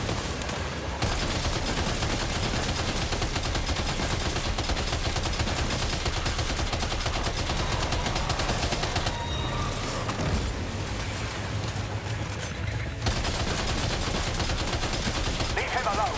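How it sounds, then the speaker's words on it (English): Sustained machine gun fire from a Death Stranding 2 firefight against mechs, a dense rapid stream of shots running nearly nonstop and loud, with brief pauses near the end. "Damn, this machine gun is really good."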